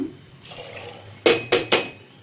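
Water is poured into a cooking pot while making chickpea kurma, with a soft trickle and then three close, loud splashing pours in quick succession.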